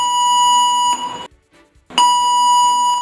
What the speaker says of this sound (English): fire or general alarm,